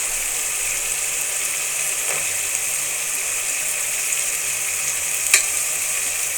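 Peas stirred into softened cooked tomato in a hot pan while making tomato bath, giving a steady, loud sizzle with a couple of short scraping stirs.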